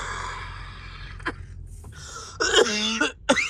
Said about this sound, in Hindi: यार खांसी हुआ यार।